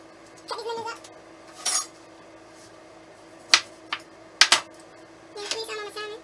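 Knife slicing lemons on a cutting board in a home kitchen while preparing a salmon and shrimp dinner, a few sparse sharp taps and clicks separated by quiet pauses, close by.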